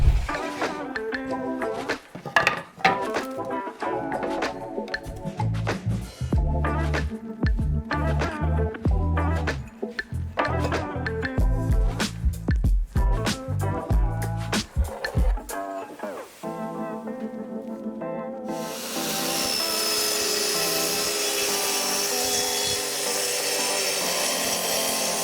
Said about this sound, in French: On procède à la découpe de toutes les étagères en utilisant la scie plongeante.